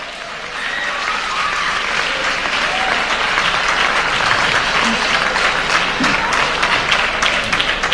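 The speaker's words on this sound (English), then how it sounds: "It deserves a round of applause." A church audience breaks into a round of applause, dense and steady clapping filling the hall for the full stretch, loud and sustained with a faint murmur of voices underneath.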